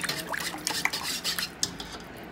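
An avocado drink mixture stirred in a container, with a steady run of scraping, clinking strokes from a utensil against the sides, fairly close and without any talk.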